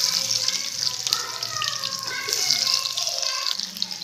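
Chopped onions go into hot oil with fennel seeds in a pan while making egg masala, giving a steady, close, hissing sizzle that lasts throughout with no talking.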